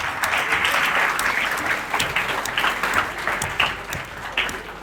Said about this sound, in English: Let's all clap.